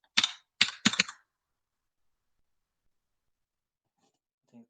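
A few quick computer keyboard keystrokes, three sharp close taps in a row, then near silence with one faint later click.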